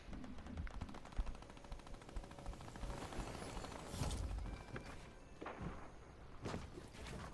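Gunfire in Fortnite, rapid automatic bursts and scattered single shots crackling at moderate distance, fairly faint and continuous across the stretch.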